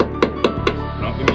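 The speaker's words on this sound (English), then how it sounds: "knock that slag off and see how it looks" A hammer knocks welding slag off a fresh weld on a rear disc brake conversion bracket for a Cummins truck. Four sharp, close metallic knocks come at a steady rhythm, with no talking.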